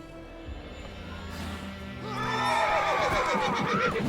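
A horse whinnies loudly and shakily in the video game The Witcher 3: Wild Hunt, its call rising over a low background hum, with no talking.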